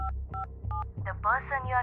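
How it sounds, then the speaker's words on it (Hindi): A mobile phone being dialed in an audio drama: three evenly spaced electronic keypad beeps, followed by a rising warbling ringback tone that repeats, clear and close. "अखिल ने जेब से मोबाइल फोन निकालकर देव को कॉल लगाई, मगर दूसरी ओर से कॉल रिसीव नहीं हुई"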